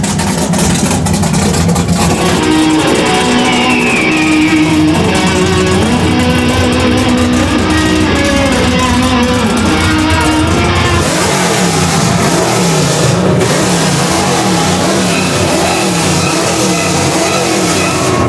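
Modified truck engine revving hard, either a 2JZ-powered Ford F-150 or a 733hp 572ci big-block K5 Jimmy: a loud, close, sustained roar with rising and falling revs, then a steady heavy drone.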